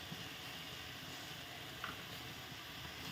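Jute leaves (pat shak) frying in a pan with salt and turmeric, a steady faint hiss of oil sizzling throughout with a brief light clink near the middle.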